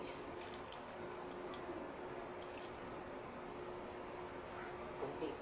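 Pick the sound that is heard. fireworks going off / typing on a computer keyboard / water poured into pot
water poured into pot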